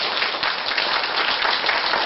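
An audience at an economic development anniversary seminar keynote claps together, a dense continuous patter of applause filling the room for a couple of seconds.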